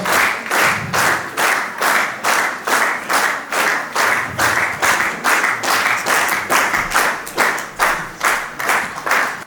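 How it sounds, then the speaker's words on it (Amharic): At an Addis Ababa tourism forum, an audience applauds a corporate award, with strong rhythmic clapping in unison pulsing steadily and loud from start to finish. "በደንብ አጨብጭቡላቸው።"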